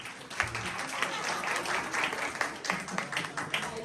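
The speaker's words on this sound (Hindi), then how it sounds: "ओके, हमें समझ नहीं आई, तालियां बजाए।" A church congregation applauds during a Hindi sermon, a crowd of hands clapping continuously through the clip, with voices cheering and talking mixed in under the applause.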